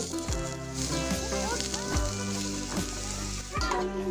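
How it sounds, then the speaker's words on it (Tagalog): Blue marlin frying with spices in a pan, a continuous close sizzle with a low steady hum and periodic clanks and scrapes of stirring. "Pag naluto na yung mga rekado, ilagay na ang blue marlin."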